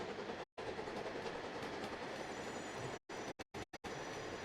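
A steam locomotive in the Roblox video game runs with a steady, loud rolling rumble and rail clatter, cutting out briefly several times.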